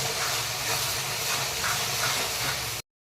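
Onion, ginger, garlic and tomato masala paste frying in hot oil for a spicy chicken liver and gizzard curry gives a steady, loud, close sizzling hiss that holds evenly for about three seconds with no voices.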